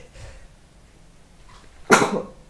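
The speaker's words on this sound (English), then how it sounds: "I paused because I knew I was going to sneeze any minute." A single sudden sneeze bursts out near the end after near-quiet, loud and close, preceded by faint breathing.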